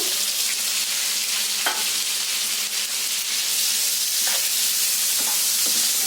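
Chopped onions frying and being stirred in a kadai, a steady close sizzle with occasional scraping stirs, loud and continuous with no talking.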